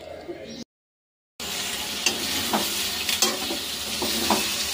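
Meat being stirred and mixed in a pan for a curry: a low sizzle with scattered scraping strokes, broken by a short full silence near the start, and no talk.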